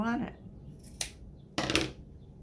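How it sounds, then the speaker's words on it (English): Two crisp scissor snips trimming a handmade tassel for a wood bead farmhouse garland, the second cut longer and a touch louder, close up after a short burst of speech at the start. "And then trim to the length I want"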